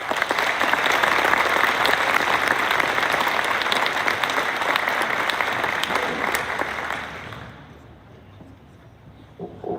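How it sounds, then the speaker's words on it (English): Seniors are applauded at a varsity sports award program, a loud, sustained crowd clapping that fades away near the end, leaving quiet room tone. "let's give them a round of applause."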